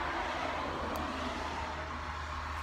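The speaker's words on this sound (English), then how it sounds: "there's like a lot of traffic right now because there is a ferry, and every car from that ferry is just rushing for here" Cars streaming off a ferry pass along a road in the rain, a steady, fairly faint wash of traffic noise with no single vehicle standing out and no voices.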